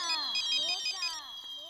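A mobile phone rings with a bright, repeating electronic ringtone, played briefly and fairly quietly indoors.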